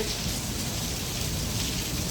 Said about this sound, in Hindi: वहाँ जाते जाते इस बारिश में तो हम बिल्कुल भीग जाएंगे